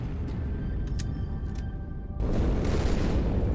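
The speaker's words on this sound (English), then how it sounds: "That explosion came from inside the Athens, same as the Malta." Explosion from inside a ship in the Halo game, a broad rumbling boom that swells suddenly partway through and stays loud, over a steady low drone with faint earlier tones.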